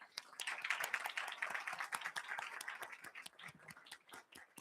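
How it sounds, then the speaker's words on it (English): Applause from attendees at a township committee meeting, a dense patter of many hands clapping at once, moderately quiet and sustained before thinning toward the end. "So just a quick round of applause for everybody here tonight."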